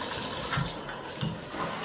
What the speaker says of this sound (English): Okay, turn on the water.